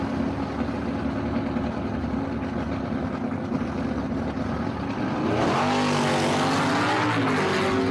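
At a dragstrip, a Bill Kraft GTJ automatic drag racing car idles in the burnout box with a low, rough throb, then the engine roars loudly as it revs up and the rear tyres spin in a burnout.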